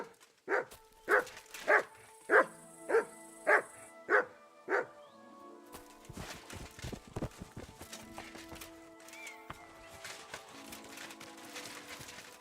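A dog in the medieval video game Kingdom Come: Deliverance 2 barks eight times in a steady rhythmic series, fairly close, followed by softer clip-clop of hooves and scattered thuds.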